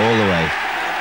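Golf crowd at the 1989 Ryder Cup morning foursomes applauding and cheering a holed putt, a brief burst of clapping and noise that follows a spoken voice.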